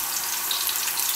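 Onions fry in a pot for Nigerian beans, giving off a steady, dense sizzle that stays even and close from start to finish.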